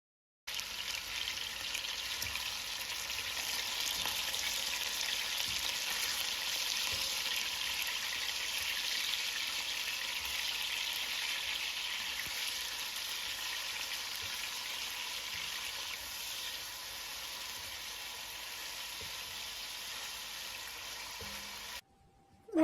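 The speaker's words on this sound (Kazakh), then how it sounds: "Енді біз қызып тұрған табамызға тауық етін салатын боламыз. Жақсылап қызарғанша қуырамыз." Chicken meat sizzling in a hot frying pan: a steady, close, even hiss of frying that holds for about twenty seconds before cutting off abruptly at the end.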